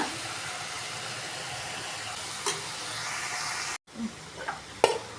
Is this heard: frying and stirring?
yes